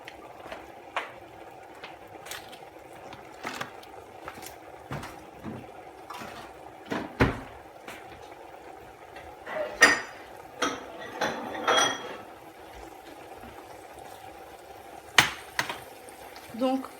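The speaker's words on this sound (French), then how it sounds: "Je remue, c'est vraiment pour éviter que ça colle malgré qu'il y ait du beurre." Food sautéing in butter in a pan sizzles softly and steadily while a utensil scrapes and clinks against the pan in scattered strokes, with a person talking at intervals.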